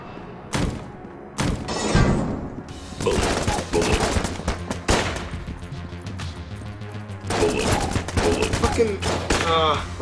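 Rapid, dense gunfire from a charged shotgun in the video game Enter the Gungeon, with loud overlapping blasts, thuds and booms layered over game music and effects for several seconds.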